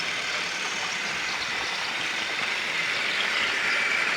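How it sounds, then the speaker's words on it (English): A Trackmaster toy train engine runs down a hill on its track, giving a steady, even motor whir and rattle that continues throughout at moderate loudness with no voices. "There goes big city engine down the hill."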